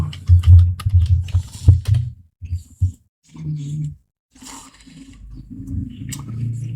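Fingers typing a message on a computer keyboard: quick bursts of close key clicks, then pauses, with a low rumbling background and occasional soft knocks.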